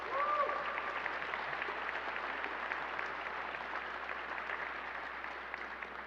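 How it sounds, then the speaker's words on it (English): Steady applause from a crowd at an exhibit opening ceremony, sustained and even throughout, at moderate distance with no break. "So y'all give him a hand clap as well."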